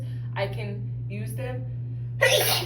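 A single sneeze bursts out near the end, loud and close, after someone speaks briefly over a steady low electrical hum.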